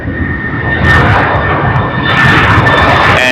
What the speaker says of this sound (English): We will show you the Boeing 777 that is just taxiing